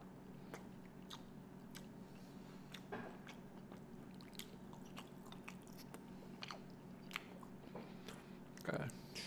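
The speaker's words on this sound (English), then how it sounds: "So let's eat some dumplings and some broccoli." Close-up eating of dumplings and broccoli: soft bites, wet chewing and occasional crunches repeat irregularly over a quiet background, with a louder squishy bite near the end.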